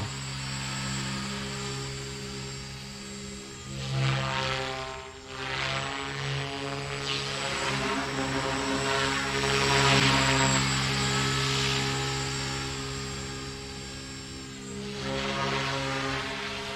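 An Align T-Rex 300X radio-controlled model helicopter buzzes steadily overhead, its rotor pitch rising and falling as it maneuvers, alone without talk.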